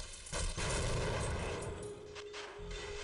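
Booming shots from a weapon in the first-person shooter Half-Life, a couple of heavy blasts in quick succession followed by a lingering rumble and a faint whine.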